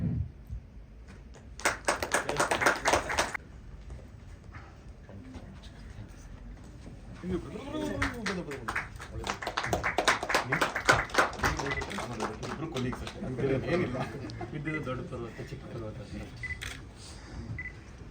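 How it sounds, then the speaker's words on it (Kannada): Audience applause at a film trailer launch event for a Kannada movie, a short burst of dense clapping early on with camera clicks, followed by a hall full of talk and murmur. "ಮತ್ತೊಮ್ಮೆ ನಿಮ್ಮೆಲ್ಲರ ಚಪ್ಪಾಳೆಯೊಂದಿಗೆ ತರುಣ್ ಕಿಶೋರ್ ಸುಧೀರ್ ಅವರಿಗೆ ಪ್ರೀತಿಯ ವಂದನೆಗಳನ"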